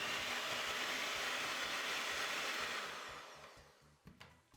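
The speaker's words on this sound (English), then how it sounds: "now we're going to beat everything together again on high speed for about a minute" An electric mixer beats cookie dough on high speed, a loud steady whirring drone close by that fades out near the end with a few bumps and clicks, no voices.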